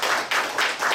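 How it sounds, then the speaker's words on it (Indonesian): A short burst of hand clapping from an audience at a business sharing session in Taipei, heard as several quick, even claps with no talking. "Memang bagi satu tepukan kepada kamu."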